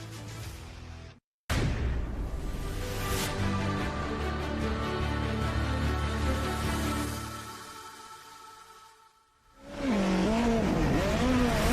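Race cars at Lime Rock Park, a loud sustained roar of engines passing close that fades away, then another car surging in and revving high.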